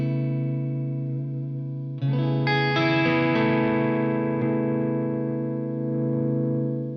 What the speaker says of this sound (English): you can have volume rolled down, nice single coil, cleaner sound, and they're really fat sounding single coils as well